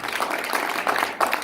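Audience applause at a pharmacists' association inauguration greets the newly introduced university provost, a brisk, fairly close patter of clapping hands that swells in small surges.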